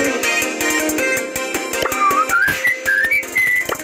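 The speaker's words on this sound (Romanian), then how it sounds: "Eu nu știu să fluier, îmi fac un film de muzică." A person whistles a tune with sliding, wavering pitches in a series of short phrases, heard up close over steady background music with a beat.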